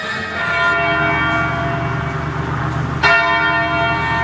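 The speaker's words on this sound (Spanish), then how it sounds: "En el Reino Unido sonaron las campanas de la Catedral de San Pablo" Large church bells of St Paul's Cathedral in the United Kingdom ring loudly with long, overlapping resonant tones, and a fresh strike lands near the end.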